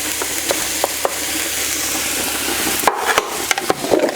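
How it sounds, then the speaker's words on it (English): Onions fry in butter in a pan, giving a steady, close broadband sizzle. A few sharp spatter pops and light clicks cut through, getting busier near the end. No one speaks. "So I'm just frying up our onions here"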